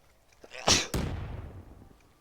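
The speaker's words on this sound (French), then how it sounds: "je viens d'éternuer sur moi, c'est ignoble" A single loud, close sneeze bursts out, with a sharp inhale and explosive release, followed by a fading breathy tail.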